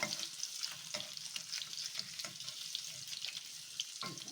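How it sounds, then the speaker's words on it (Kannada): Paneer fries in ghee in a pan for Hyderabadi paneer masala, a soft continuous sizzle with crackling pops and occasional stirring or turning noises, close but fairly quiet. "ತುಪ್ಪದಲ್ಲಿ ಹಾಕಿ ಫ್ರೈ ಮಾಡ್ಕೊಳ್ಳೋಣ ನೀವು ಬಟರಲ್ಲಿ ಕೂಡ ಮಾಡ್ಕೊಳ್ಬೋದು"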